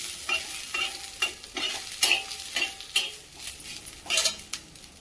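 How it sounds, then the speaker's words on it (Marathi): Onion frying in a little oil in a pan while being stirred, a soft sizzle beneath repeated scraping strokes of a spoon against the pan, close and fairly quiet. "थोडं तेल टाकून घ्यायचंय, एकदम थोडंसं तेल टाकायचं आणि व्यवस्थित परतून घ्यायचं आहे"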